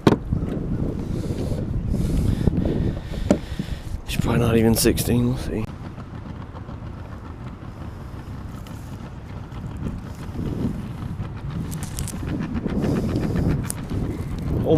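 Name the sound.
strong wind blowing outdoors while fishing, wind noise on microphone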